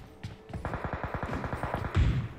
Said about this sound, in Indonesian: Oke, ada tembakan di sana.